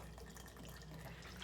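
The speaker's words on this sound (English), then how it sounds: "Whoops, I think I over-poured it." Malibu coconut rum pours into a measure for a piña colada ice pop mix, a short, faint, steady liquid trickle with no speech over it.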